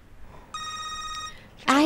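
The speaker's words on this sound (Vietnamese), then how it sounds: "Điện thoại kêu rồi, có điện thoại." A telephone in an indoor scene rings with one sustained electronic trill lasting under a second, followed by a sudden loud voice.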